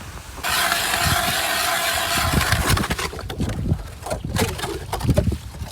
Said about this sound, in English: Oh, there's the wind.